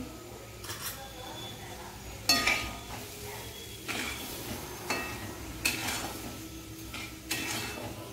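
A spoon stirs sheera with sugar and cardamom in a pan, giving soft scraping with several clear metallic clinks against the pan and low background noise, while someone talks.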